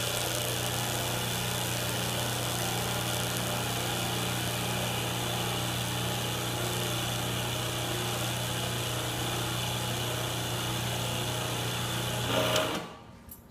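A hydraulic press cylinder comes down and builds pressure, giving a loud, steady mechanical whine and hum with a constant low drone that holds for about twelve seconds before cutting off abruptly.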